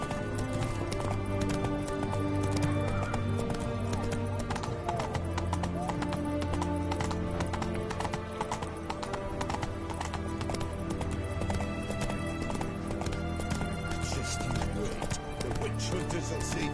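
Steady clip-clop of the horse Roach's hooves in The Witcher 3: Wild Hunt, a continuous trotting rhythm over a dense layer of game music and ambience, with a brief whinny and occasional speech in the mix.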